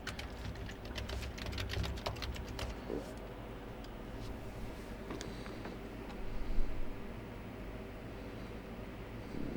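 Code typed on an HP 255 laptop keyboard: a quick run of light key clicks early on, then sparse taps over a steady low background hum, with a slightly louder clatter near the end.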